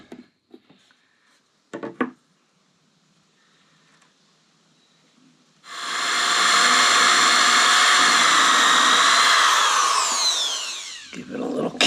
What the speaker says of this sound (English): Give it a little countersink so it doesn't split these shims apart.